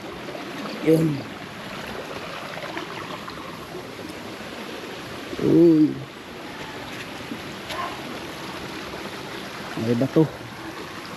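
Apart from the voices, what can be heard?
rain-swollen stream of flowing water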